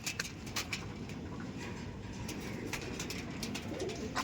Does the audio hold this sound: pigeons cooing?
yes